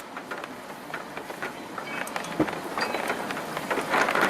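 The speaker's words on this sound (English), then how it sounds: "Very light rain at the moment." Very light rain falls outdoors near a storm in Munfordville, a soft, steady hiss with scattered faint patters, growing slightly louder toward the end, with no talking.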